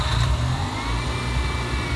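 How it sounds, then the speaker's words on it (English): Stock Mazda RX-7 FD engine idling during an air leak check, a close, steady low hum with slight wavering in speed and a brief louder rise at the start. "you'll hear that the engine actually idle different speeds if you get close to an air leak"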